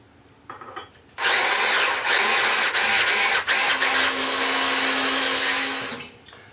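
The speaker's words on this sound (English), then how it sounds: "So I've now got the egg whisk. It's working quite well. And we just mix the butter together with that sugar." An electric mixer fitted with an egg whisk creams butter and sugar, a loud steady motor whine that starts suddenly, runs with a few brief dips and then winds down.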